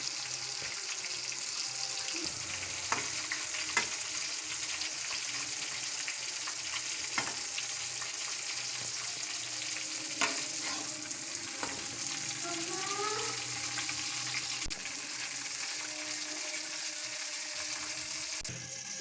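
Masala-stuffed eggplants frying in oil as they are lifted out, giving a continuous close sizzle broken by a few sharp clinks of a utensil and a faint trickle of water.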